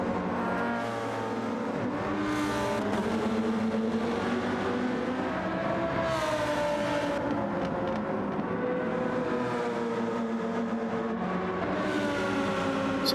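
A Lamborghini race car in a multiclass racing game at the Catalunya circuit, its engine droning steadily with rising and falling pitch through gear changes, accompanied by other cars' engines.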